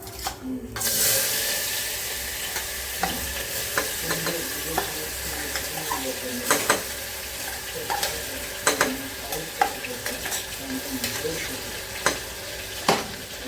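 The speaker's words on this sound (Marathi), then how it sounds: "फोडणी टाकली मी, जिरे मोहरी, लगेच आता याची पेस्ट टाकून घेते, अद्रक लसण कोथिंबीर आणि कांदा." A paste of ginger, garlic, coriander and onion is dropped into hot cumin and mustard seed tempering in a home kitchen, giving a loud steady sizzle broken by repeated scraping stirs and clinks of a spoon against the pan.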